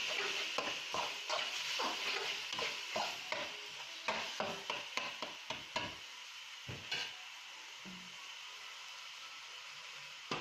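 Tomatoes sautéing in a pan with softened onions for a chicken biryani, a continuous sizzle broken by regular scraping strokes of a stirring spatula, close and fairly loud, with no talk.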